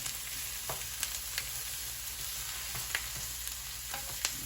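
Onions fry gently in a pan for Italian sausage with peppers, a low, even sizzle with scattered light utensil ticks, quiet and close.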